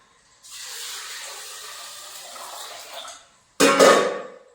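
Water splashes and rushes over soaked rice being rinsed clean for jaggery ariselu, a steady close wash lasting about three seconds, then a brief pause and a louder, sharper burst of sloshing, with no talk.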